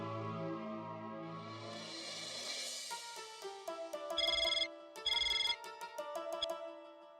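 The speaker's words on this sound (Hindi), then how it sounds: "बाघा को फोन करके पूछ ले" A telephone rings in a TV sitcom household after a call is placed, starting with a ringback tone and then sharp repeated electronic ring bursts in a steady rhythm, close and clear.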